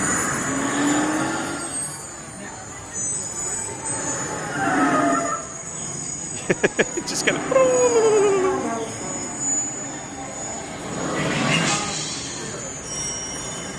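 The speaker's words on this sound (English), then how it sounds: "that's the Disneyland Railroad above. That's when the train was going by" Disneyland Railroad train passing overhead, caught on a phone: rumbling and clattering swell in and out, with metallic clanks, a brief squealing wheel whine midway and a final surge near the end, while someone speaks briefly.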